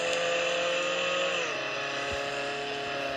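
A car in the Roblox video game drives with a continuous synthetic engine drone that drops in pitch midway and then holds steady, with no talking.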